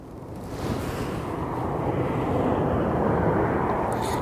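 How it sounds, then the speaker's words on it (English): A steady, droning engine roar of an Airbus H175 helicopter passing overhead near Aberdeen Airport, loud and continuous with some wind noise, rising slightly in strength. "Airbus helicopters H175"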